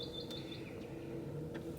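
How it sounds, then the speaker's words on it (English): Small birds chirping inside a grocery store, a few short, bright tweets scattered over a faint steady hum, with no talk. "oh, birds"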